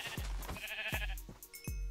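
Gray sheep in the Minecraft video game bleating in rapid repeated calls, about four loud, close bleats over a steady game background, with no talk.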